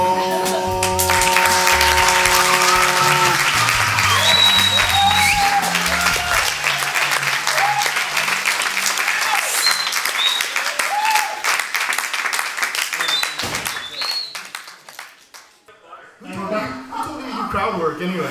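Live comedy podcast audience giving the hosts a long burst of loud, dense applause and cheers, fading out near the end as talk begins.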